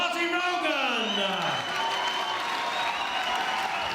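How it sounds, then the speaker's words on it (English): A crowd at a heavyweight boxing title presentation applauds steadily and evenly throughout, while an announcer's voice rings out over the clapping near the start. "Please give a nice round of applause, please."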